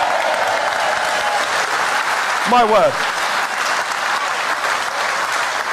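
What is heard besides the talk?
audience applauding at a Brexit rally in Doncaster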